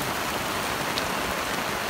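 Heavy rain pours steadily and loudly, a dense continuous hiss of drops hitting surfaces, with no voices.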